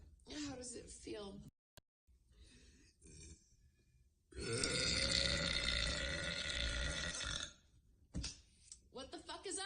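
A girl lets out a huge, prolonged burp lasting several seconds, loud and close, with shorter guttural sounds and brief voices before and after it.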